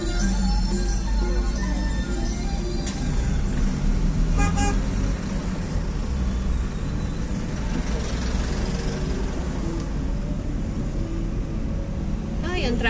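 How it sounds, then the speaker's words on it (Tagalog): Road traffic in Nepal rumbles by steadily, with several car horns tooting now and then; people talk over the noise of the vehicles. "Ay, ang traffic dun oh."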